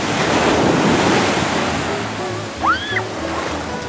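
Ocean surf at Polihale State Park beach on Kauai, a broad steady wash of breaking waves mixed with wind buffeting the microphone, with a brief faint chirp near the end.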